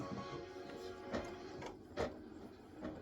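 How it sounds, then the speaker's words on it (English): An embroidery machine stitches an applique design, giving a steady, quiet mechanical whir with soft periodic ticks and a few slightly louder clacks. "So you can see how it's stitching."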